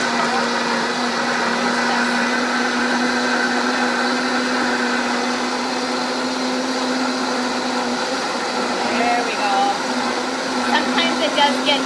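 A Vitamix blender runs on low speed, a loud steady motor whir with a constant tonal hum that holds throughout, near and uninterrupted, with some rattling toward the end.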